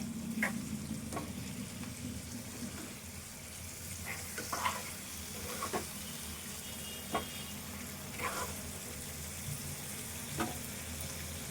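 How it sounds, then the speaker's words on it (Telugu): Gongura chicken with masala fries gently in oil on a low flame, a soft continuous sizzle broken by occasional scrapes and clinks of stirring, fairly quiet and close. "కొద్దిగా స్టవ్ సిమ్లో పెట్టి ఇది మంచిగా ఫ్రై చేసుకోవాలి"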